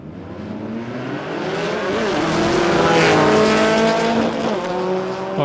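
Sport compact drag cars launch down the track at an Australian drag meet, engines roaring and rising in pitch together in a loud, sustained swell, with a faint tyre squeal.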